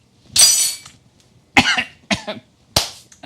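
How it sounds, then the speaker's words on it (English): Three or four separate coughs, close and sharp, with short pauses between them; a soft murmur is heard in the quiet gaps. "I know I'm coughing."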